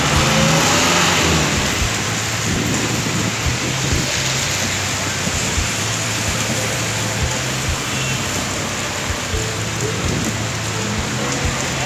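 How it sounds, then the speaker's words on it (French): Heavy rain pours steadily and loudly throughout, with a low engine rumble of traffic beneath it near a bridge under construction; no one speaks. "Wow, il pleut énormément ici!"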